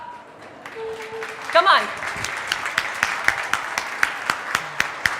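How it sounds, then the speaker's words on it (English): An audience at an international conference applauds teachers, a dense burst of clapping that swells mid-way and carries on steadily, with a voice speaking over the start. "let me clap for you, please."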